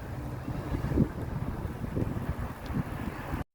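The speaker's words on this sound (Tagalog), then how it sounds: "Malakas ang hangin guys." Strong wind roars and buffets the microphone continuously at a wharf at low tide in Taiwan, with rumbling gusts and faint water sounds beneath, no voices.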